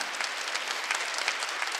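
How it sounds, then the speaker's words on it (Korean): A congregation claps during a church worship service, a short burst of steady, fairly faint crowd clapping without voices. "박수 세게 치라고 하나님께"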